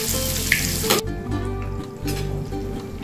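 Masala fish fries in refined oil in a pan over medium-low flame, a continuous close sizzle with a brief clink partway through and no talk.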